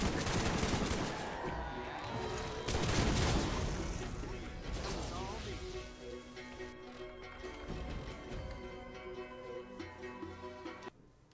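Gunfire from skeet shooting in the Borderlands video game, a string of loud overlapping shots in the first few seconds, then scattered lighter shots under a steady game soundscape, with someone talking over parts of it.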